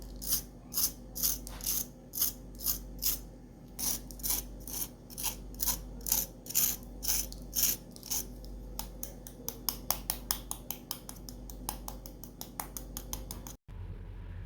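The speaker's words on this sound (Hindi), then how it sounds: "आपने आवाज़ सुनी होगी, इतनी क्रिस्पी और इतनी मज़ेदार है ये" Crispy fried aloo tikki potato patties crunching in a steady series of sharp, crackly bites and breaks, close and fairly quiet, the crunches coming faster toward the end with no talking.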